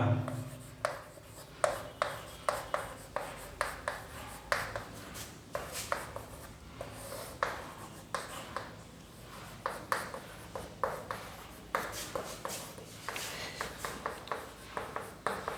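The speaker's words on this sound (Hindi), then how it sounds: "तो आइए देखते हैं कैसे हम लोग लिखते हैं इसको" Chalk or marker strokes on a board during a chemistry lecture make a long run of quick tapping and scratching bursts in an irregular rhythm, close and fairly quiet.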